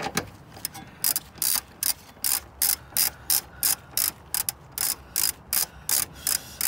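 A ratchet wrench clicks in steady, rapid bursts as it loosens bolts on a Toyota Lexus hybrid battery pack, repeating in close, loud, rhythmic strokes over a faint room hum.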